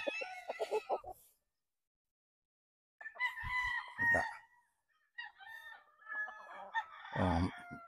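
Pure Boston Roundhead gamefowl rooster crowing close by, two or three loud crows separated by quiet gaps, with a cluck mixed in.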